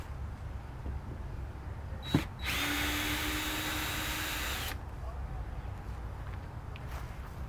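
A Craftsman power drill whirs steadily for about two seconds after a short sharp knock, then stops; quiet room noise continues around it.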